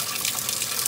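Water pours steadily into a portable washing machine as it fills, a continuous broadband splashing rush that stays loud and even throughout, with no talking.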